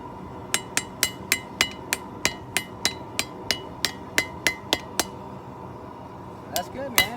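Hot metal is hammered while forging, with about sixteen loud, evenly spaced ringing blows close by, then a pause and a couple of looser strikes.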